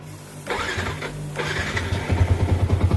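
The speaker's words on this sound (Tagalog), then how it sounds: "So, syempre, start natin yung ating motor." A motorcycle engine cranks and catches, then settles into a steady, close idle with a throbbing rhythmic pulse, heard alone without any talking.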